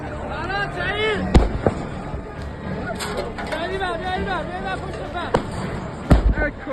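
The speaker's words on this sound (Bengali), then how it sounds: "এ সময় গুলির শব্দ শুনতে পাওয়া যায়" Sharp gunshot cracks ring out during violent street protest clashes in Iran, several loud separate bangs spread irregularly over shouting and crowd voices, with people talking throughout.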